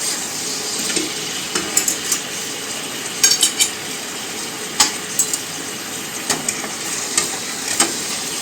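Endives braising in a pan give off a steady sizzle and fry, broken by the scrape of a utensil stirring and several sharp clinks of metal against the pan.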